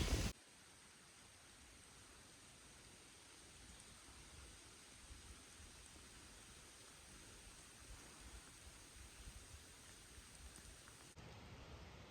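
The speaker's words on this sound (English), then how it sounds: "And of course, it's gonna rain just in time." Rain falls on the Appalachian Trail as a soft, steady patter and hiss, faint and continuous with scattered drop taps, after a brief louder noise at the start.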